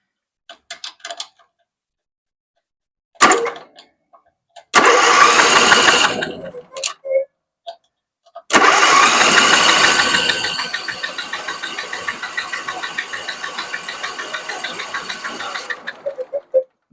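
A Husqvarna zero-turn mower engine, with ignition and fuel shut off, is cranked by bridging the solenoid with a screwdriver; a few short bursts come first, then a long, rapid, rhythmic cranking chug that never catches.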